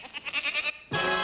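A goat lets out a wavering, pulsing bleat, then a second louder, harsher bleat cuts in and holds steady, close and alone.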